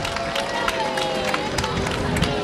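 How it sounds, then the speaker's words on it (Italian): Morgette supporters cheer at the Palio di San Nicola horse race in August 2008, a steady crowd roar with hubbub and scattered shouts filling the scene, loud and continuous throughout. "Ci sono i tifosi di Morgette, vi sento"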